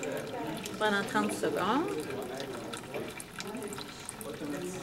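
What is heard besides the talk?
aquaterrarium system draining dirty water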